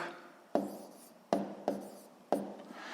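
A pen scratches numbers onto paper during a sixth-grade multiplication exercise, four short sharp strokes with faint scratching trailing after each, close and alone.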